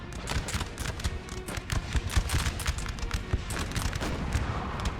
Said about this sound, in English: Oh, we're just in time for the house explosion.